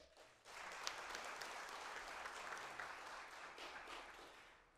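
An audience at a formal anniversary ceremony gives a sustained round of applause for the evening's honoree, the clapping rising quickly and holding steady at a moderate distance.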